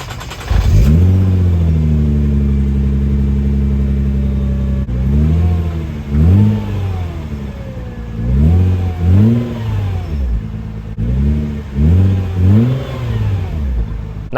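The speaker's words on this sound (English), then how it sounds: "Let me give you some revs to let you hear how this V6 sounds." A Nissan GT-R R35 with a twin-turbo V6, warmed up and stationary, starts and idles loudly up close, then gets several rising and falling revs in quick pairs that settle back to idle between them.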